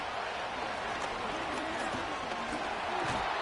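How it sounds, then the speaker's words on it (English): Steady stadium crowd roar from a Madden football game, a dense, continuous wash of noise holding at an even loudness throughout, with a few faint swells and no clear voices standing out. "This crowd turning up the decibel level."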